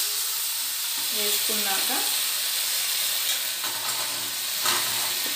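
Egg 65 frying in a pan, a steady sizzle and hiss that continues throughout, with a voice speaking briefly over it.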